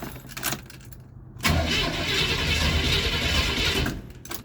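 A 4x4 Camaro's engine cranks briefly with a few uneven bursts, then catches after about a second and a half and settles into a loud, steady running roar close by.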